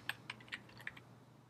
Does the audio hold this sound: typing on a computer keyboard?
yes